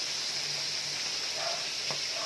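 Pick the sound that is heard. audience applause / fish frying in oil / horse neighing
fish frying in oil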